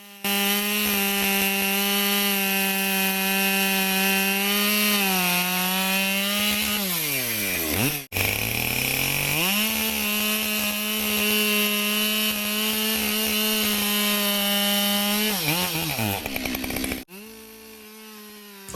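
A repaired Husqvarna 572 XP chainsaw cuts firewood, its engine screaming at a steady high rev that bogs down and drops in pitch as each cut finishes, with two short breaks between the loud, close cuts.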